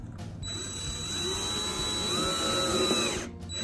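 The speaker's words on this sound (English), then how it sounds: "Now we're gonna put the screws in the poked holes." A power drill drives screws into pre-poked holes for hanging a power strip, one continuous close whirring run that rises slightly in pitch, bracketed by brief clicks at start and end.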